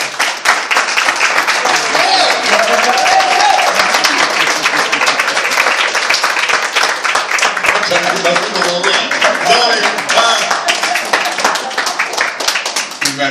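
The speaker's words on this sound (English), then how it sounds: "please give me a welcoming hand clap and encouragement for all the work that he's done." Crowd at a community gathering claps hands loudly and continuously in a dense, sustained burst of applause with some voices mixed in.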